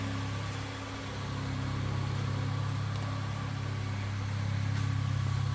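A 2026 camper van's engine idles with a steady, low mechanical hum and drone, fairly close and unbroken, with no one talking.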